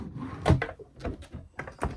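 A cutlery drawer in a Doral 360SE caravan sliding open or shut, a few wooden thumps and scraping runs close by, fairly loud, with no talk.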